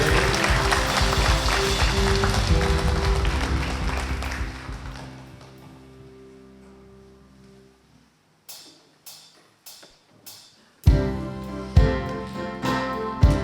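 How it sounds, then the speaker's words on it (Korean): A congregation at a Korean church revival service claps in praise after a prayer, starting as a loud, sustained rush that fades out, followed after a pause by several separate sharp claps and then louder clapping again. "오늘도 우리와 함께 하시는 그 주님께 영광의 박수 올려드리길 원합니다."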